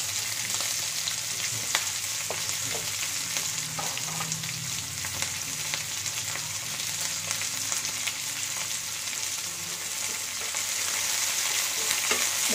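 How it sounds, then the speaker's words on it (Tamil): Onions, green chilli and curry leaves fry in oil after mustard seeds, giving a continuous bright sizzle with occasional soft stirring scrapes, close and steady throughout. "கொஞ்சம் நல்ல எண்ணெயில் கொஞ்சம் வேகட்டும் வேக விடலாம்"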